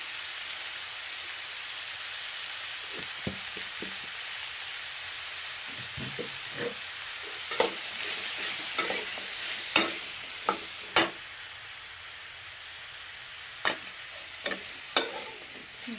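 Small pieces of tomato frying in oil for a village-style chutney, a steady soft sizzle with faint stirring scrapes and occasional sharper crackles and clicks, heard close with no talking.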